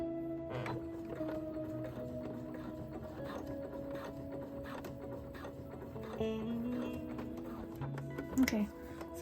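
A sewing machine stitches back and forth across quilted jelly-roll fabric for a bowl cover, its steady mechanical clatter running throughout with small pauses and a few louder clicks near the end.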